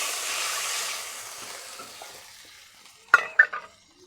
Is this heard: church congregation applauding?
no